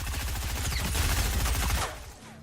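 Rapid gunfire in a video game, including a pump shotgun, rattles out as a dense, loud, continuous volley for about two seconds before tailing off, with no talk.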